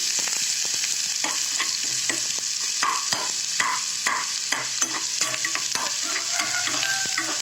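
Finely chopped onion sautéing in hot oil for a potato snack, a steady bright sizzle with frequent scraping stirs of a spoon against the pan, close and continuous with no talk.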